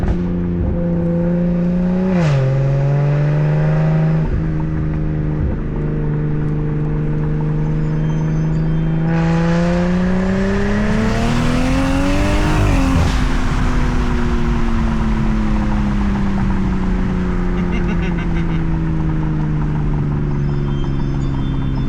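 A BMW 340i tuned to 800 horsepower drones and rises as it accelerates, the engine pitch climbing through gear changes, with steady road rumble throughout. Loud and close, no voices.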